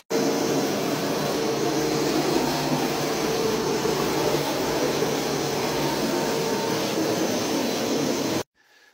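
A small electric SC100 E floor scrubber runs with a steady, loud whirring drone of motor and brushes, unbroken for about eight seconds before cutting off abruptly.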